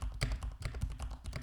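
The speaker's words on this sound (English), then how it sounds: "This is the Meteor with me typing on the Keychron K8 Pro." Typing on a Keychron K8 Pro mechanical keyboard picked up by a Samson Meteor microphone: a steady run of close, crisp key clacks in an irregular quick rhythm, with no voices.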